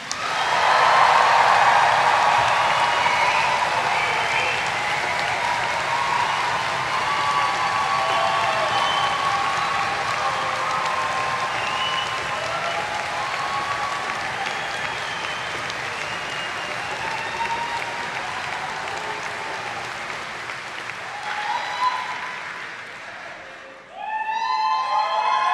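A large university graduation audience applauds and cheers for the graduating class, a loud, sustained wash of clapping for over twenty seconds that fades out near the end as a voice starts to speak.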